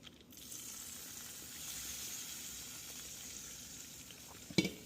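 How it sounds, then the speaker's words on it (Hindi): A hot tempering sizzles steadily into a pot of Punjabi kadhi, a broad continuous hiss that holds evenly, ending with a brief clatter. "will add the tadka"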